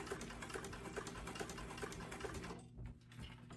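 A sewing machine stitches steadily around the edge of a fabric sling bag with a constant motor whir and regular needle clicks, then stops abruptly and restarts shortly after.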